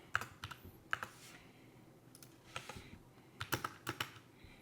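Computer keyboard typing while code is written, irregular bursts of light, close key clicks with short pauses between runs, quiet and with no talk.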